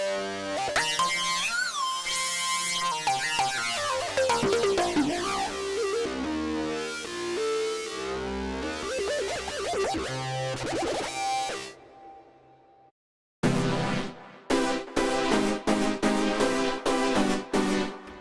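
Bright, gritty synth lead playing a busy melodic line, then a brief gap followed by sharp, punchy staccato stabs.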